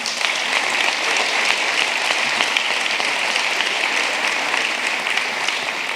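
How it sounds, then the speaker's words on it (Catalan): Steady applause from an audience at a 2019 local sports awards ceremony in Roquetes, honouring a special mention, dense and continuous throughout without pause. "Un aplaudiment també."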